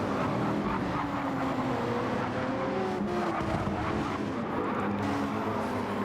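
A tight pack of racing cars in a video game race roars past together, a dense, loud, continuous blend of engine whine with faint tire squeal and no voices.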